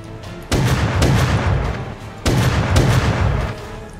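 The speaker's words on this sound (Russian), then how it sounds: "На нее очень много выстрелов надо сделать" Two bursts of heavy, booming gunfire in the video game Rust, each lasting over a second with repeated rumbling shots, separated by a short quiet gap.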